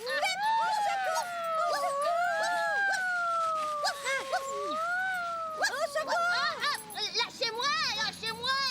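A cartoon dog in a French children's TV show whimpers and howls in long wavering tones, loud and close, mixed with lively character voices and music.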